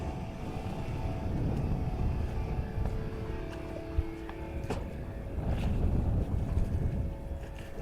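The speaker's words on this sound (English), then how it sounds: "Wind's dying down on me a little bit here. Get some occasional gusts" Wind rumbles and buffets against the microphone outdoors on the water near Key Largo, a steady low roar that swells in occasional stronger gusts, with faint tonal engine hum underneath and no talk.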